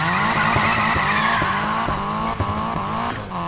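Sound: Nissan Silvia drifting, tires skidding, Need for Speed Payback video game

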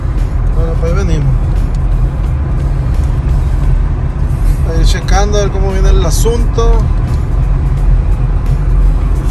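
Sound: car driving while towing an Acura TSX Type-S

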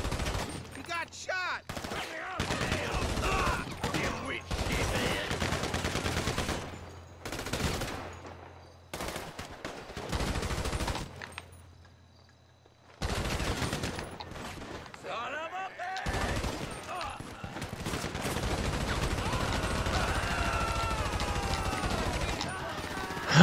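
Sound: gunfire from a video game, GTA V Online

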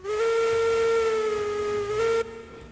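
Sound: steam locomotive whistle in video game Railroads Online

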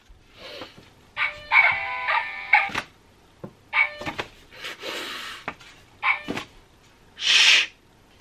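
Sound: musical greeting card playing dog barking

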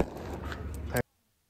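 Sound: lighter smashed on the ground exploding with a loud bang

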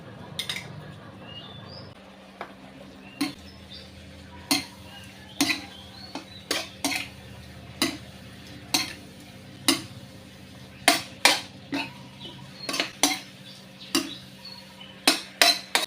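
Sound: stir-frying sliced pork with southern curry paste in pan

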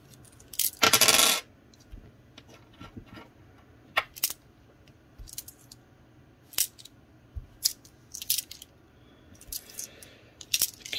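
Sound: coins being dropped and sorted

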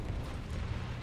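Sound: artillery gun firing in the video game War Thunder

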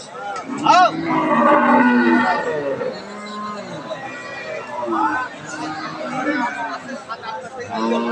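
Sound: cow mooing at cattle market

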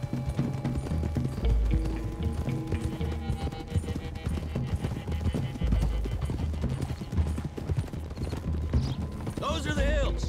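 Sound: horses galloping in a video game

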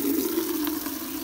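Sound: water poured for washing greens

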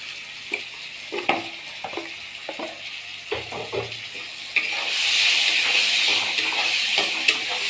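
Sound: chili powder sautéing in hot oil

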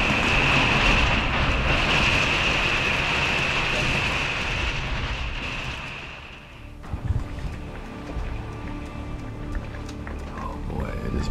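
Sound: heavy rain and storm heard inside a car

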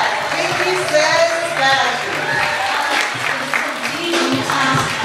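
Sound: big round of applause

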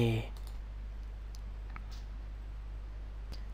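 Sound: mouse clicking OK in Adobe Captivate 8

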